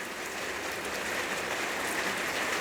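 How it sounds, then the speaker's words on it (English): Steady rain falls in Alaska, a continuous even hiss of drops with no pauses and no voices. "Typical Alaskan weather today is rain"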